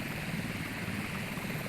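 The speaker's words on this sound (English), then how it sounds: "This helicopter doesn't even carry a door gunner." Steady rotor and engine drone of a helicopter in the naval combat game Sea Power, heard as a continuous moderate hum with no talk over it.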